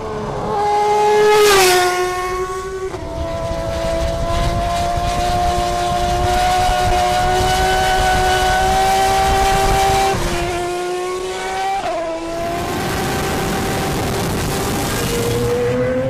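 A big V12 racing car drives hard around a track, its engine holding steady high-pitched tones with gear changes and pitch shifts as it accelerates and lifts, loud and continuous with no talk.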